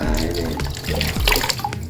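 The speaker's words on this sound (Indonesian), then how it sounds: "Jadi ini airnya." Water runs steadily from an automatic portable hand-washing station, a continuous splashing stream close by while a person speaks briefly over it.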